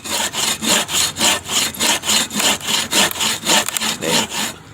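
A saw cuts through a tree limb with steady, rhythmic back-and-forth rasping strokes of the blade in the wood, loud and close, about a dozen even strokes with no talking.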